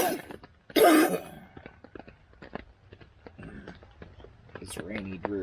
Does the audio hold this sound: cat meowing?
no